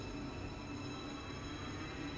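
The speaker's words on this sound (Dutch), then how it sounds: "Ik moet wel zeggen dat het treintje een heel mooi geluid geeft als hij optrekt." A GTW train in Train Simulator 2015 accelerates, giving a steady, dense rumble with a faint high whine above it that continues unbroken and fairly quiet throughout.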